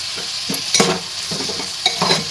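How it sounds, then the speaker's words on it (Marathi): Tomatoes and onions fry in a pan for a dried prawn dish, sizzling steadily while a spoon stirs and scrapes through them close by in a few brief strokes, with no talk. "टोमॅटो असं व्यवस्थित मिक्स करून चांगलं"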